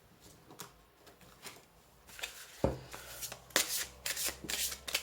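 Tarot cards are shuffled close up in a quiet room, soft riffling and sliding that grows busier and louder in the second half, with papery flicks in quick succession.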